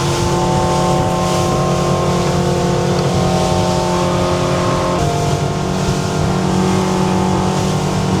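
A steady Sea Hunt Ultra motorboat engine drones loudly and continuously in a bay with light chop, a constant hum running without pause and no voices over it.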